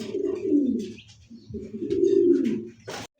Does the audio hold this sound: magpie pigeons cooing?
yes